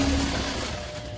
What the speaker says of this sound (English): I stitch it like in my case, it's almost 1 inch in, and I stitch it this way.